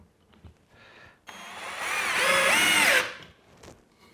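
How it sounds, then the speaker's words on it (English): A cheap cordless drill drives a screw into a wooden wall stud, a close, loud motor whine that rises in pitch and strains for about two seconds before stopping, with faint handling clicks around it. "now let's recreate just driving a screw into a stud"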